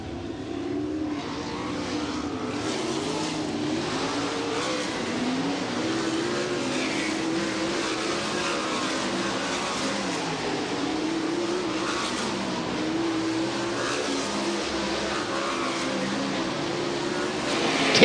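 Sprint cars circling a dirt oval at River Cities Speedway during a World of Outlaws hot lap session, a steady, continuous engine roar that holds at one level throughout without pause and with no talk over it.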